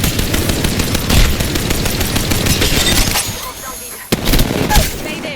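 Enemy gunfire in a combat video game: loud, dense rattling bursts of shots that ease off briefly, then a sharp crack and renewed firing.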